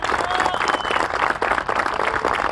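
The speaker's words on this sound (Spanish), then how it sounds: "A ver el aplauso de la gente, a ver" A street-show crowd in Lanús claps for a performer, a loud, close, continuous patter of applause with crowd murmur and a few shouts mixed in.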